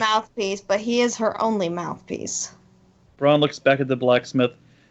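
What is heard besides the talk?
No everyday noises stand out.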